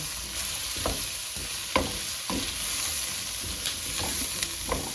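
Vegetable stir-fry with cauliflower sizzling steadily in a hot pan, with repeated scraping and clacking strokes as it is stirred, close and fairly loud throughout.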